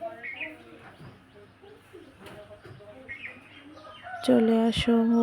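Chickens cluck intermittently nearby in a home yard, soft short calls scattered throughout, ending with a louder burst of clucking and squawking.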